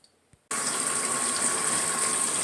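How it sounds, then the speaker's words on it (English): Water gushes steadily from a hose into a compact apartment mini washing machine, switching on abruptly and then running as a loud, continuous rush. "So with water coming down here"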